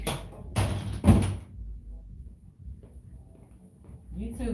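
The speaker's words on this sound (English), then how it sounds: "Let me close this door" An indoor door swings shut with two sharp thuds close together, the second heavier, then a quieter room where a voice begins talking.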